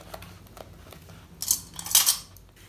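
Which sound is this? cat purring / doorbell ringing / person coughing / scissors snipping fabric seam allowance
scissors snipping fabric seam allowance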